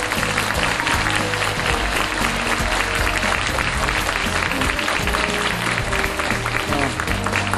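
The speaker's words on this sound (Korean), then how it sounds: "열정적인 강연을 해주신 포스코의 우리 정준 의원님께 다시 한번 박수 부탁드립니다" Audience of university students applauding after a CEO lecture by the POSCO chairman, a full, sustained roar of clapping with steady density, loud and close, with music or crowd noise blended underneath.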